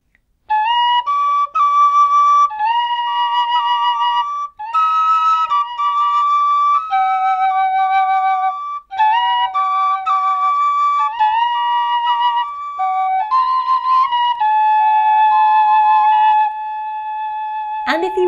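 A tin whistle plays a tune as a round, two bright, clear melodic lines overlapping in a steady, close, loud stream of notes, with brief pauses between phrases.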